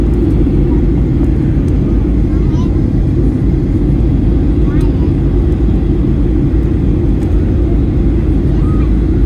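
Steady loud low roar of a Qantas Boeing 737-800 airliner in cruise on a flight from Melbourne to Ballina, heard from inside the cabin as a constant rumbling drone with no break.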